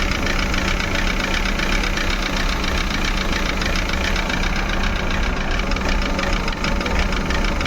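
A Maruti Suzuki Eeco idles roughly with a misfiring, vibrating engine, giving a loud, continuous knocking rumble heard close up with no talk.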